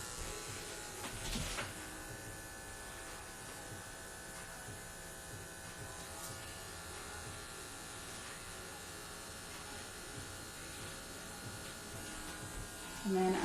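Electric hair clippers buzz steadily while trimming straight across the back neckline during a men's clipper haircut, a close, continuous hum with small shifts in pitch as the blade moves, briefly louder near the end.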